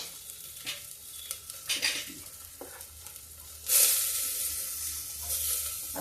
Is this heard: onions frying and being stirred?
yes